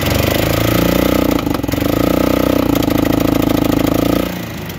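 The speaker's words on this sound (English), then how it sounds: "when you press the pedal, it goes, but it kind of bogs. It loses power, it bogs." A Polaris 500 engine runs loud and close under throttle, its rough, droning note holding steady for about four seconds before dropping off.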